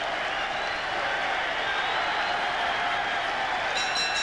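A Wembley boxing crowd roars at the close of a British Heavyweight Championship fight between Henry Cooper and Jack Bodell, a thick, unbroken wall of cheering and clapping that holds loud and level throughout.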